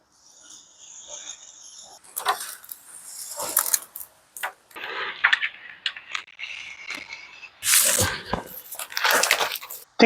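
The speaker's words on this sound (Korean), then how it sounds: "비닐 포장으로 되어 있는데 제가 한번 뜯어봤습니다" Vinyl packaging is torn and peeled off a teak laminated wood board in irregular crinkling, ripping bursts, close and fairly loud, with brief pauses between pulls.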